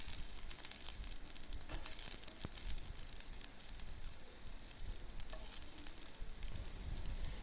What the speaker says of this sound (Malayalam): വെളുത്തുള്ളി ഒന്ന് വാടി വരുന്നത് വരെ ഇളക്കി കൊടുക്കാം